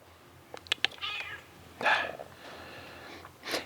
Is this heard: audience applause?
no